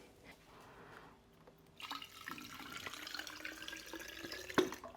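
Water being poured from a container to top up potted ivy houseplants, a soft trickle at first, then a louder splashing, gurgling fill with a few sharp drips near the end, close by and with no talking.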